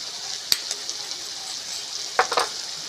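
Mung pulao being stirred together with chili chutney in a hot pan gives a soft, steady sizzle, with a couple of sharp spoon-against-pan clinks standing out near the start and toward the end.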